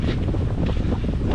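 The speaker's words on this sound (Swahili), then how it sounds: "Upepo mzuri." Strong wind on the Kilifi coast, Kenya, buffets the microphone in a constant low roar, with a faint wash of sea and surf behind it and no voices.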